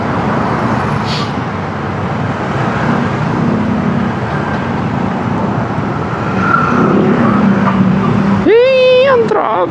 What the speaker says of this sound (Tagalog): Dito sa Metro Manila, kung gaano ka lala yung traffic.